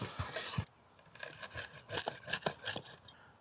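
A knife or cutter slices through a crusty homemade pepperoni pizza made with beef-fat dough, giving quiet, close crunching and scraping strokes in a short irregular series with brief pauses between.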